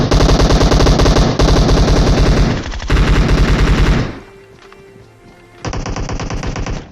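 Sustained automatic gunfire in PUBG Mobile, loud rapid bursts of several seconds each, a short lull with faint game ambience, then another burst.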